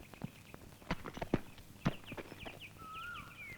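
A horse's hooves clip-clop on hard ground in a slow, uneven walking rhythm, with a few sharp nearby hoof strikes and faint birdsong in the background.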